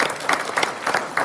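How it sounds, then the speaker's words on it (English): At the State of McKinleyville Chamber event, the audience claps, a short, dense burst of applause with a few sharper claps near the mic. "You all should give yourselves a round of applause"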